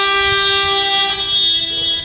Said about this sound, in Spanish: Ya se oyen ahí las bocinas de la carroceta y de los coches.